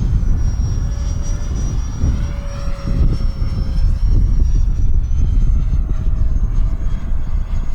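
An FF-Viper-50 model airplane engine running at full throttle into strong wind, a steady loud droning whine with a faint high tone that holds throughout, under heavy wind buffeting and rumble.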